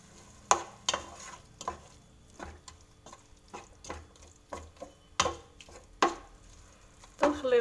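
Sauce stirred in a pan with olive oil, scraping strokes in an irregular rhythm with sharp utensil knocks over a low background sizzle, close and moderately loud.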